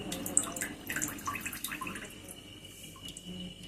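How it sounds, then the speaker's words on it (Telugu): Ice water draining off freshly cooked macaroni in a kitchen, a soft steady trickle with scattered drips, close and fairly quiet, fading slightly toward the end. "ఇలాగా నీరంతా వాడిపోవాలండి"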